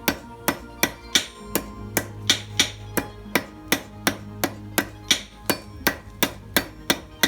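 Steady blacksmith hammer blows drawing a taper on hot 1/4 inch steel bar, about two strikes per second with bright ringing impacts, close and alone without talk.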